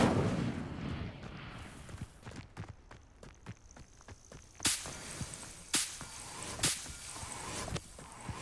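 Incendio fire spell cast in Hogwarts Legacy: a run of sharp whip-like cracks and magical bursts, several loud broadband blasts repeating at roughly one-second intervals over quieter crackling, with no talk.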